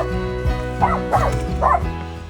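A dog gives three quick, close barks in a row at a rural Marin County property, sharp yips over a steady background.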